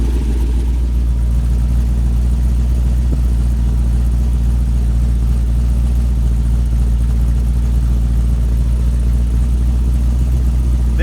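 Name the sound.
engine with 216/220 cam idling at 800 rpm, heard from the exhaust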